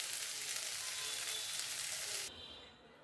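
Pointed gourd stuffing fries with turmeric and chili powder in a pan, giving a dense, even hiss of close sizzling that drops off suddenly near the end.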